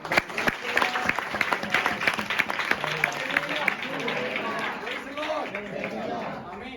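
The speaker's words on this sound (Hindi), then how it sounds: "मैं चाहता हूँ कि सभी लोग एक दूसरे के जोर से ताली बजाएं" Church congregation clapping loudly together, a dense wash of many hands with scattered voices and chatter mixed in, steady throughout.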